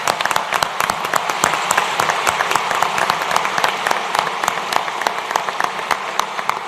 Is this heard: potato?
no